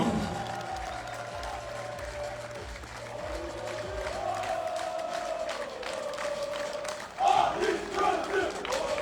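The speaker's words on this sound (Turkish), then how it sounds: "Bir diğer başkan yardımcımız alkışlar Ali Gönlü için geliyor" A crowd at a football club's season-opening event claps and cheers with shouts mixed in. A louder swell of cheering comes near the end.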